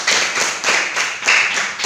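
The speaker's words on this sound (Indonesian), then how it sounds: "Tepuk tangan, Yuli." A classroom of pupils claps together for a classmate during a maths lesson, several bursts of fairly loud, uneven clapping in quick succession, with no talking.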